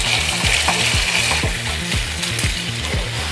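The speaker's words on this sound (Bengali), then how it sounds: "মশলার সাথে এবার আমি চিকেনটা আবার ফ্রাই করব।" Chicken frying with masala in a pan for Goan chicken cafreal makes a loud, dense sizzle, with regular scraping strokes of a spoon stirring roughly twice per second throughout.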